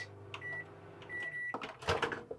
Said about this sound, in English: you do have your microwave, which is a Russell Hobbs 800 watt microwave